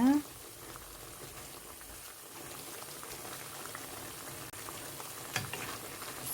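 Boiled bracken is stir-fried quickly over high heat in a pan, with a steady close sizzle and bubbling under a spatula's stirring, and a brief high clink near the start.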